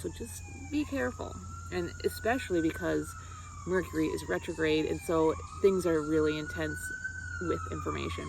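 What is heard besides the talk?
emergency vehicle siren on a city street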